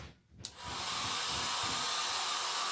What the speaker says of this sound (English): So I'm using the cool setting on my hair dryer.